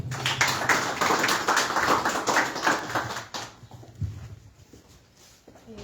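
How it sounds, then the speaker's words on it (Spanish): An audience at a health centre ceremony in Livingston applauds for about three seconds, a dense crowd clap that then stops abruptly, leaving scattered faint room noises. "Un fuerte aplauso, por favor."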